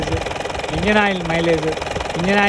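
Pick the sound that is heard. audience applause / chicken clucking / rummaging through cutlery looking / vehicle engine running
vehicle engine running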